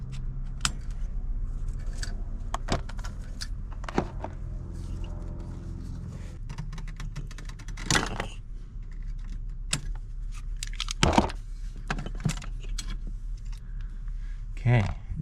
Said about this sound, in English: Now I just need to undo some of these zip ties to free the wires.